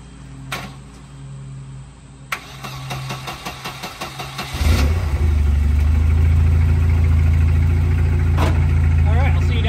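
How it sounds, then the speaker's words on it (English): A Volvo 240 Turbo wagon engine cranks with a rapid starter chatter for a couple of seconds, then catches and settles into a loud, steady idle close by. A voice is faintly present. "Oh, I should probably turn the key on."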